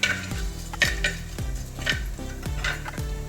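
Coriander seeds roasting in coconut oil over a medium flame give a soft sizzle, with a spoon repeatedly scraping and clinking against the pan in a steady stirring rhythm, close and moderately loud, no talk.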